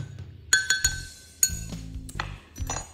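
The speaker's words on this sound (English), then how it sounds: "Take a second and stir that gently." A spoon clinks and knocks against a glass several times in an uneven rhythm while gently stirring a piña colada, with soft swirling in between.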